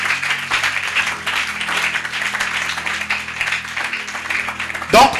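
A church congregation applauds in acclaim of Jesus, a steady mid-level wash of clapping holding for about five seconds, ending with a brief louder burst.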